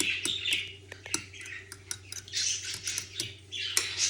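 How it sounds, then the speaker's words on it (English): A fork whisks eggs in a bowl for scrambled eggs, giving quick clinking, scraping taps in irregular bursts, fairly close and moderately quiet with no talk. "you're going to take your fork and just start mixing them"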